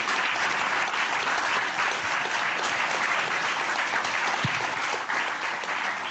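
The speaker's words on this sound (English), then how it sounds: "if everybody could give a big warm round of applause to our panel today" A conference audience gives a warm round of applause to a panel on artificial intelligence, sustained and even clapping filling the hall for the whole stretch.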